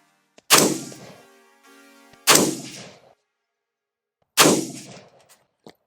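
Three sharp rifle shots from a White Label Armory AR-15 loaded with Tula ammunition crack out one at a time, spaced a couple of seconds apart. Each is loud and close, with a short decaying echo and nothing heard between them.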